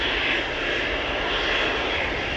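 A German Airways jet flying for KLM departs Amsterdam Schiphol Airport bound for Bremen, its engines giving a constant, loud, close roar throughout with no talk over it.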